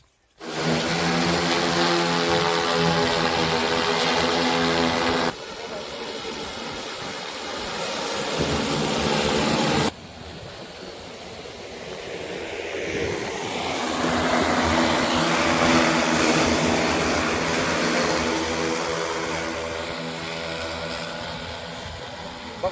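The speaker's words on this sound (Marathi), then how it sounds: "6 मिनिटांमध्ये 30 गुंठे क्षेत्र फवारणी करून हा ड्रोन आता इथं आलेला आहे" An agricultural spraying drone returns from spraying a field, its propellers giving a loud, steady high-pitched whine and buzz that shifts in pitch as it approaches and maneuvers overhead.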